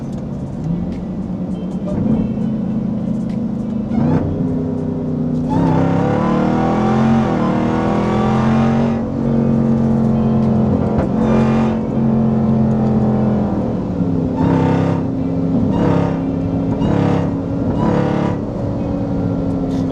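A Jeep Trackhawk pulls hard with its supercharger whining, engine pitch climbing through repeated gear changes in loud, continuous bursts heard from inside the cabin.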